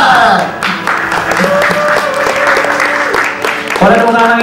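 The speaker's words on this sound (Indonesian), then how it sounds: "Boleh tepuk tangan lagi dong" Applause sounds at a podcast competition press conference while a voice speaks over it, and the clapping stays partly masked by the talking throughout.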